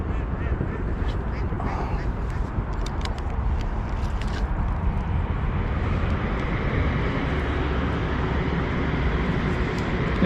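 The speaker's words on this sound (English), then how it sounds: "I've got the train to my right and the cars behind me." Road traffic behind and a train off to one side near a fishing lake, a steady broad rumble of passing vehicles holding through the whole stretch, with faint chirps and duck-like calls scattered over it early on.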